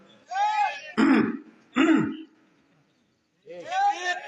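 A voice makes exaggerated throat-clearing and coughing noises during a sermon, several bursts in a row with a pause, loud and close, imitating coughs heard in a mosque.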